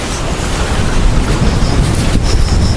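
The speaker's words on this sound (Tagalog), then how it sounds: "Grabiha sa hangin diri." Loud, continuous wind roars and buffets the microphone, with a broad rushing noise like surf in the background.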